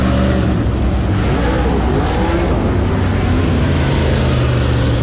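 Race cars pass on the Eldora Speedway dirt track with a loud, continuous engine roar, pitch sweeping as the cars go by and the sound swelling and fading as the field circles.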